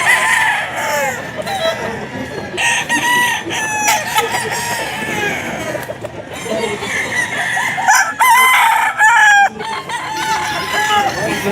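A straight-comb gold gamefowl rooster crows loudly and close at a busy pet market, repeated crows mixed with clucking and other fowl, with people talking in the background.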